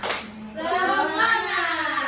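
A classroom of children doing a short rhythmic clapping chant led by a teacher, with a quick burst of hand claps at the start followed by voices chanting together in unison, moderately loud.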